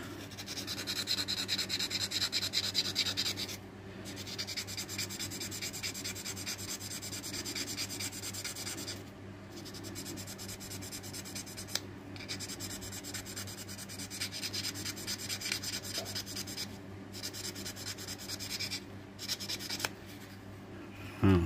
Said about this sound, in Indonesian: Nah ini saya amplas dikit aja.